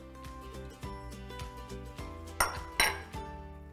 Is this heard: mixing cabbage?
yes